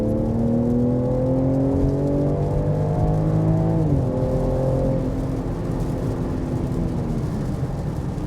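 A BMW M3 Competition xDrive with all-wheel drive on a wet track, its engine droning loudly and steadily, pitch rising through the gears then dropping at a shift before settling into a lower, continuous roar.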